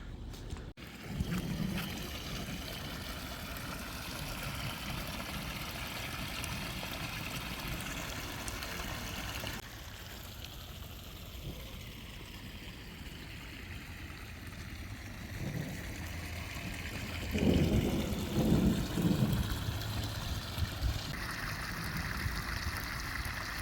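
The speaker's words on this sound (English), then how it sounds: "It's kind of piled up there, but it's draining into the pond." Water trickles and flows steadily as it drains into a pond on a high-desert homestead, a continuous low rushing that swells louder near the end, with no voices.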